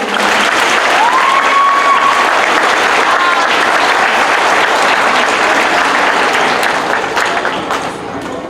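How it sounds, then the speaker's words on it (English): An audience claps in a loud, sustained round of applause that stays steady, then begins to taper off near the end. "give them a round of applause"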